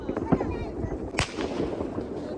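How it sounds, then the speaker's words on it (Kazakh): New Year fireworks crack and pop in sharp bursts, one especially loud, over a rumbling background while people talk nearby. "Анау салют болады."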